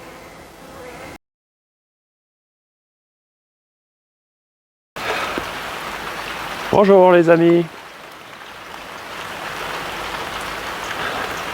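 Steady rain that has fallen since morning patters in a dense hiss, broken by a stretch of silence, then a voice briefly speaks over the falling rain.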